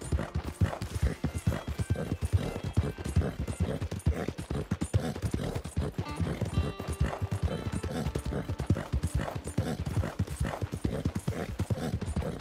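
Horse hooves clip-clop in a fast, steady gallop in Red Dead Redemption 2, loud and close throughout, with occasional whinnies mixed into the rhythmic beat.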